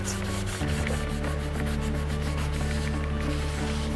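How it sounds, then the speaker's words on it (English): Polish is rubbed hard onto a silver ring, giving a continuous close scrubbing hiss over a steady low hum, unbroken for the whole stretch. "You have to rub quite hard to get a good effect."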